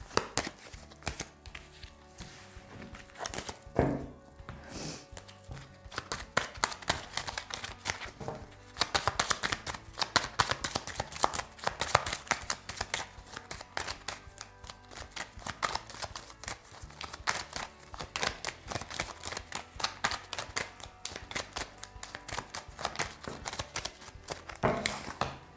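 Tarot cards are shuffled steadily for the whole stretch, a continuous close riffling and slapping with no talking over it.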